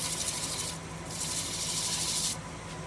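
A Scotch-Brite-style abrasive pad rubs against a turned mimosa wood bowl on the lathe, making a steady close rasping hiss that swells and eases in broad strokes.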